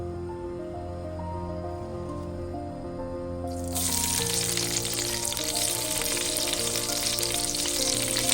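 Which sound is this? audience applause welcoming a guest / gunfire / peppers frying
peppers frying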